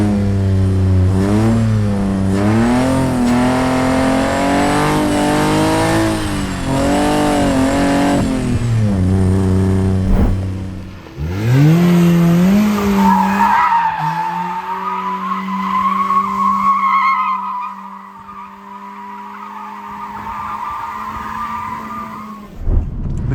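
A car with a limited-slip differential drifts, its engine revving hard in rising and falling pulls while the tires break into long, loud squealing skids, the tire squeal holding steady near the end.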